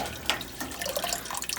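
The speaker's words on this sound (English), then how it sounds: "Might add just a little bit of water" Water splashes and trickles into a pot of chicken broth in a home kitchen, a short continuous pour with some bubbling, close and alone.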